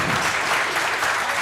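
Students in a classroom break into dense, steady applause, a continuous close patter of many hands clapping throughout.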